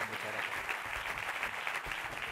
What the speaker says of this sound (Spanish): Fuerte el aplauso para las palabras del alcalde